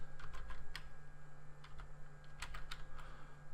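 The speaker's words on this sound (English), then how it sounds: "So I'm going to type those in first." Fingers type on a computer keyboard with quick, irregular clusters of close key clicks over a steady low electrical hum, with no voices.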